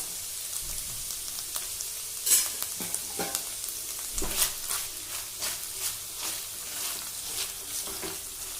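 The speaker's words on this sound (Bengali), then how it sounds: "গ্যাসটাকে লো ফ্লেমে রেখে আদা জিরে বাটাটা 1 মিনিট মতো কষিয়ে নেব। এবার দিয়ে দিচ্ছি 5টা কাঁচা লঙ্কা চেরা।" Ginger-cumin paste frying in a pan over a low gas flame with five slit green chilies added: a steady, soft close sizzle broken by scattered clicks and scrapes of stirring, with no talking.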